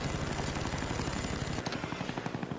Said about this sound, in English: You're still in that chopper.